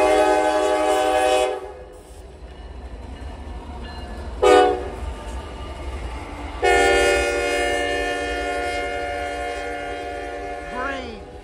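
A short freight train led by a Norfolk Southern ERIE heritage locomotive passes in winter cold, giving long horn blasts that stop, return briefly, then sound again over a steady low rumble of rolling cars.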